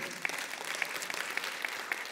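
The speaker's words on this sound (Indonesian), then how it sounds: "Berikan tepuk tangan untuk Tuhan" A church congregation claps for God during a Commitment Sunday service, a fairly quiet, even patter of many hands with a few sharper claps standing out, heard from a distance.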